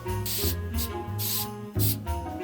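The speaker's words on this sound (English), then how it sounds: "I'm going to use a little bit of hairspray." Hairspray sprays onto freshly curled, bouncy hair in three short hissing bursts, up close, over a steady background hum.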